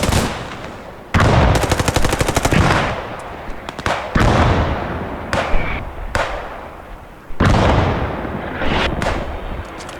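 Machine gun fire in the WWII shooter Post Scriptum, several loud sustained bursts of rapid automatic shots with booming echoes and short gaps between bursts, close and harsh, with no talking.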